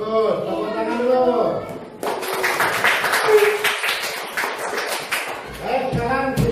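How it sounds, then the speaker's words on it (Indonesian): Children in a classroom burst into a round of clapping lasting a few seconds, a dense patter of many hands, bracketed by an adult voice talking before and after. "Tepuk tangan dulu."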